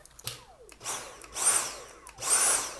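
A Dyson V7 Fluffy cordless vacuum cleaner motor whirs up in short bursts, three or four rising whines with pauses between, close and fairly loud.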